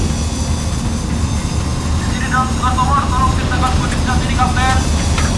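A passenger airliner in an in-flight emergency gives off a loud, steady engine drone that continues throughout, with faint voice-like sounds rising through it in the second half.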